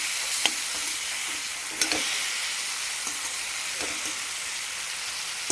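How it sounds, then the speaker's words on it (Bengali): Drumstick pieces coated in ground mustard and green chilli paste with turmeric and salt, stirred in a sizzling pan; a continuous hiss broken by occasional sharp spatula knocks against the pan, close, no talking. "ভালো করে নেড়ে নেব"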